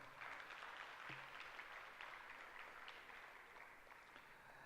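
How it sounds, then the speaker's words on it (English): Faint, distant audience applause at a tourism service excellence awards ceremony, a steady wash of clapping that stays quiet throughout. "Round of applause."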